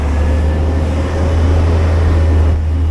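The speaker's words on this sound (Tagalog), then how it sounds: "Pasensya na po sa ingay. Yan po ay ingay ng garbage truck." Garbage truck rumbling on a street beside a gas station, a steady loud low engine drone with broadband hiss throughout and no voices.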